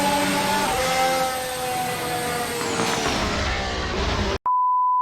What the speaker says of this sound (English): nowadays, F1 sounds like this